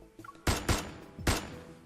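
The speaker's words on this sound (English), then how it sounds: "A gunshot explodes in the empty reception hall." Gunfire in the video game Love and Deepspace, set in an empty reception hall: three loud, sharp shots, the first two close together and a third after a short pause, each followed by a brief echoing decay.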